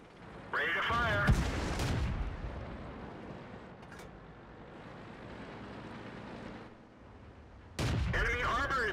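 Tank cannon blasts in World of Tanks, with a heavy boom near the start and another near the end, each followed by a long rumbling decay, with battle ambience and synthetic voice callouts in between.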